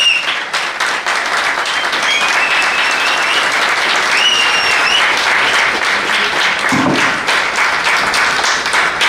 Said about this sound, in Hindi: सर के लिए एक बार जोरदार तालियां खड़े होकर के